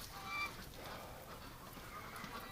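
Ducks, including Muscovies, being driven out of their pen on a winter morning, with honking, goose-like calls rising and falling over a steady rustling background, moderately close and without any talk.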